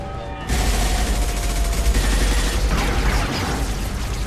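Heavy gunfire in the video game Mass Effect 2 starts abruptly after a brief quiet moment, then a loud, sustained barrage of rapid shots continues close by to the end.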